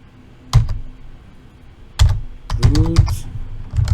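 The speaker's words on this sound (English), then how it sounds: "and now I'm going to type the password," Someone types a password on a computer keyboard: a few isolated key presses, then a quick burst of clicks and taps, close and crisp against a quiet background.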